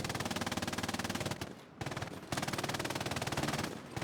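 Sustained machine gun fire in a military video game, a steady rhythmic stream of rounds with a brief pause in the middle, heard at moderate, fairly distant level with no talking.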